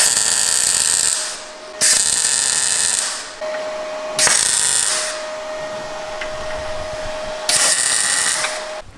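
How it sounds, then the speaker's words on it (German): Welding on the bolt of a car's steering knuckle, loud and close, with harsh crackling bursts of a few seconds each separated by short pauses and a faint steady tone in the background. "Jetzt werden wir den Eimer schweißen"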